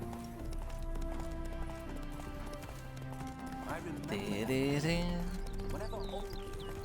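Roach, a horse in the video game The Witcher 3, trots with rhythmic hoofbeats and snorts uneasily, under background music and a voice talking.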